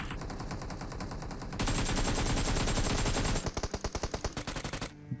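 Rapid automatic gunfire in a video game battle rings out steadily throughout, with shots coming from both left and right, ending in a burst of distinct, evenly spaced shots.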